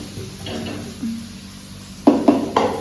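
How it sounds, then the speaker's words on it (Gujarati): Chopped cabbage, chillies and onions drop into a hot pan in a home kitchen, giving a few sharp sizzling bursts near the end after quieter stirring and clinking of utensils. "અને હવે નાખશું કોબી મરચાં અને ડુંગળી"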